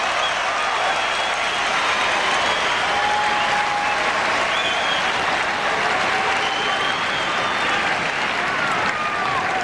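A tennis crowd applauds loudly and continuously at a 1995 exhibition match between Pete Sampras and John McEnroe, a dense wash of clapping with some voices mixed in.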